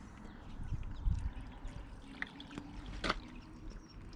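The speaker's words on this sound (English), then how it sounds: "You can put some more water down here." Water poured into the windscreen scuttle drain of a Mercedes W201 or W204 trickles and gurgles quietly in a few short splashes, close by and with no talking.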